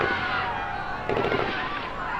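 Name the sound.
gunfire in H1Z1 video game radio broadcast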